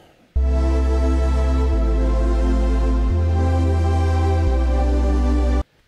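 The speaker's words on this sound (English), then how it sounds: "just a sine wave using 3 oscillator to add some sub frequencies to those pads" A deep, smooth sustained sine-wave sub bass tone shifting through four held notes beneath a layered synth pad, then cutting off.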